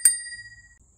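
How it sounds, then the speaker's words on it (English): A single bright ding from the handlebar bell of a Jetson Bolt Pro electric bike rings out sharply close up, then its metallic tone fades over about a second. "has a bell"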